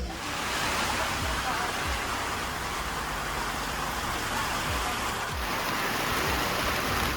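Steady heavy rain pours around a boat in the Sundarbans, heard from inside the pilot's cabin as a dense, loud, continuous hiss with low rumbling underneath, unbroken throughout.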